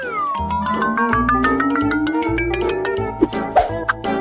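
A pet cat meows over busy kitchen music with sliding tones and thumping beats while it is given milk; the cat's calls are brief and partly masked by the loud music.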